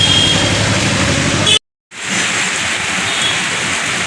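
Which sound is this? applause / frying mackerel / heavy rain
heavy rain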